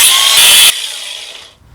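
A power saw cuts into metal panel work on a Triumph restoration, a loud, harsh, high grinding rasp that eases off partway through and fades out close by.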